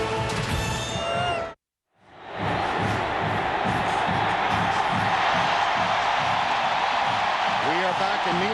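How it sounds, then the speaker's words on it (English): Thunderous home crowd roaring at Neyland Stadium in Knoxville for the 2004 Tennessee versus Florida college football game, a dense, sustained wall of cheering that rises after a brief announcer segment and a moment of silence. "it will be a thunderously loud crowd, as is the custom in Knoxville"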